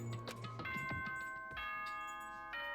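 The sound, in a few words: bell chime announcement in Danganronpa video game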